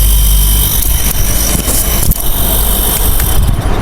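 An electric air compressor motor running under test, a steady loud mechanical hum and whir with constant level, one brief dip midway, no talk.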